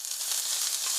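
Garlic frying in hot oil in a pan gives a loud, continuous close-up sizzle, an even bright hiss with no voices over it.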